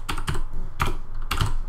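Typing on a computer keyboard while writing a first Java program: four distinct clusters of close, clacky keystrokes in an uneven rhythm, with no talk.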